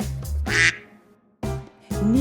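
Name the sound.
ducks quacking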